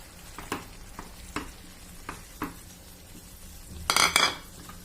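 A spoon clinks and scrapes against a pan while potato is stirred into a sizzling masala mix, a few separate taps followed by a louder burst of clattering near the end.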